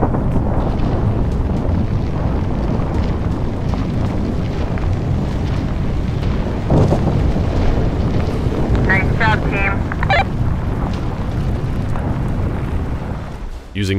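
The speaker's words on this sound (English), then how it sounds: "the biggest controlled explosion ever in Europe until 2014." A deep, continuous rumbling roar fills the air as a tower collapses in a controlled demolition using nearly a ton of explosives, with a few faint tonal sounds over it.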